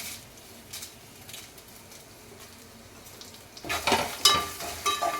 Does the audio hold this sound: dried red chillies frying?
yes